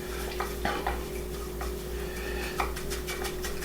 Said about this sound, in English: Now we'll go ahead and we'll mix this together